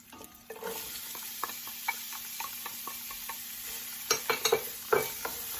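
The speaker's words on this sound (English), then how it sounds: "We saute the onions until golden brown" Finely chopped red onions saute in a pan with roasted garlic, a quiet steady sizzle broken by frequent light scrapes and ticks of a spatula stirring, with a cluster of louder stirring knocks toward the end.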